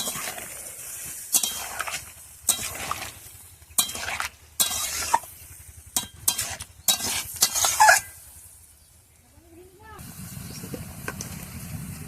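A spatula scrapes and clinks through cauliflower roast with yogurt and a little sugar in a pan, bursts of stirring over a low sizzle, then a quieter stretch where a voice briefly speaks.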